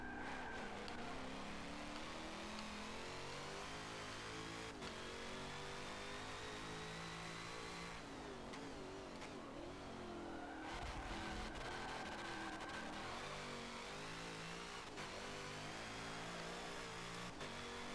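Corvette C7.R racing in Forza 7, its engine droning loudly with repeated tyre squeal and skidding under hard braking as the revs rise and fall through corners, no voices.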